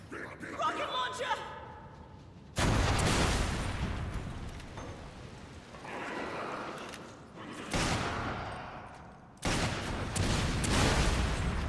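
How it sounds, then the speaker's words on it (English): Rocket launcher fire in a video game: several loud, abrupt blasts with rumbling tails, spaced a few seconds apart, heard alongside game noise and a talking voice. "Rocket launcher!"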